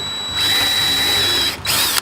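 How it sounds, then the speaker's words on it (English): Power drill whirring in a short burst while pre-drilling a small screw hole for a barn door latch, spinning up, briefly stopping, then running again up close. "I'm gonna just pre-drill a little short hole just so it's easier to use the impact driver."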